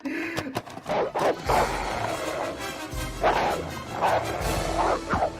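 Dogs bark and snarl in a movie fight scene from Look Who's Talking Now, with repeated bursts of yapping and growling, thumps and a crash over a busy, loud soundtrack.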